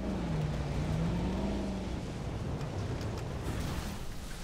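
A vehicle driven through a dinosaur park in the video game Jurassic World Evolution gives a continuous low engine drone with a gliding pitch shift early on, steady and fairly loud without pauses.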